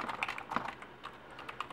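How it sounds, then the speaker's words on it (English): Quick, light keystrokes as commands are typed on a computer keyboard, a soft irregular clatter of taps heard close by with no talking. "Make sure you type all of these correctly."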